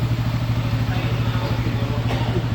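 A pit bike engine runs steadily at idle, a close, even low throbbing with a regular pulsing beat and light mechanical clatter, sustained throughout.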